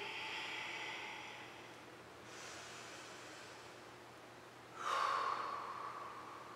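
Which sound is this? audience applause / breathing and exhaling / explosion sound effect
breathing and exhaling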